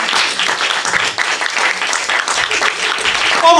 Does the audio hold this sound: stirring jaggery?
no